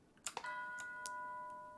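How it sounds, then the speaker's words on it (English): A tubular bell one-shot sample in FL Studio rings out once, struck with a bright metallic attack and followed by a sustained, gradually fading tone, heard alone. "It's like a tubular bell sound."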